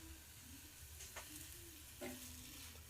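A spice paste dries in a pan as it is stirred, with a quiet sizzle and the soft scrape of a spatula against the metal, close and without talk.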